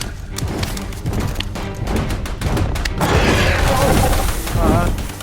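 A rapid volley of gunfire in a wooded combat scene, several sharp cracks and booms in quick succession at the start, followed by louder crashing blasts and a muffled shout.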